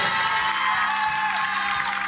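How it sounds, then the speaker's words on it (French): A TV-show studio audience applauding a contestant named Aurélien, a dense, even wash of clapping at steady loudness throughout. "Applaudissements pour Aurélien, s'il vous plaît"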